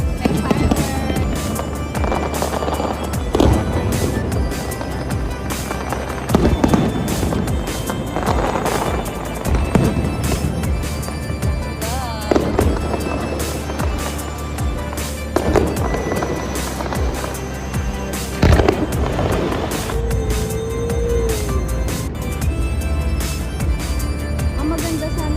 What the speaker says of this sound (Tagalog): May fireworks.